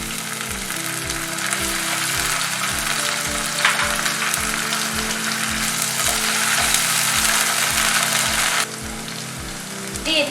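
Onions and ginger-garlic paste fry in hot oil for a spicy chicken curry, a steady loud sizzle with repeated low stirring scrapes in a regular rhythm and no talking.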